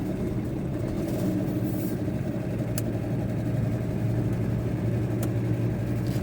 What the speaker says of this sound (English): there's the night bus.